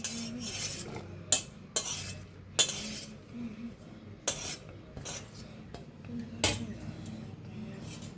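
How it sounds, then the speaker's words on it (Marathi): A spoon stirs chopped onion and green chilies into appe batter in a metal bowl, with repeated sharp clinks against the rim amid soft scraping, close and irregular. "आता जे आपण कांदा हिरवी मिरच्या कापून घेतल्या होत्या ते बी मिक्स करूया।"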